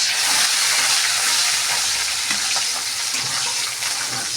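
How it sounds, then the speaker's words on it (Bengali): Chopped onions going into hot oil in a wok after garlic, a continuous hissing, sputtering sizzle that stays loud and steady throughout, with faint clatter from the pan. "এবার এই পেঁয়াজ দিয়ে দিলাম"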